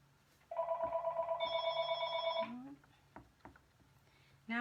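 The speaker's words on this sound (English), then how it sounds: "Now my house phone is ringing." A house telephone rings indoors with a warbling electronic trill lasting about two seconds, quieter ticks and a low room hum around it, followed by a soft voice.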